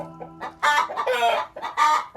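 A Marans hen that has just laid an egg clucks loudly and insistently nearby, a run of harsh squawking bursts with brief pauses between them.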